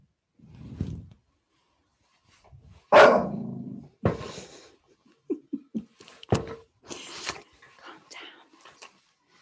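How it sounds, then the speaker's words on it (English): A dog barks a few times at mid-distance, the loudest bark early on, followed by scattered quieter sounds and a little laughter. "I think that might have been you, Philip, that made Ralph bark"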